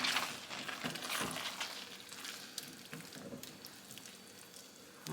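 Chicken pot pie filling with pre-cooked chicken being stirred in a pan, a steady sizzle and frying crackle with soft scraping and occasional clinks of the utensil, fairly faint and continuous, with no talking.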